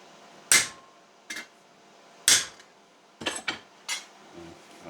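A hammer dimples a piece of sheet metal with homemade tools. About half a dozen sharp, ringing metallic blows land close by at an uneven pace, with quiet gaps between them.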